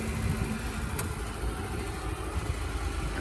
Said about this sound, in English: This also comes with a fob key, so it has a remote starter. So you can remote start it like this.